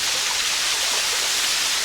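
Water flows steadily at Frankfort Mineral Springs, an iron-rich spring in Raccoon Creek State Park, Pennsylvania, giving a continuous close splashing hiss with no pauses.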